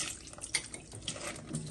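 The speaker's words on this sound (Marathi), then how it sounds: "पहिले स्वच्छ पाण्याने धुवायचे आहेत" Crabs are rinsed under clean running water, a soft, continuous splashing and trickling with small irregular splashes, fairly faint and without any talk.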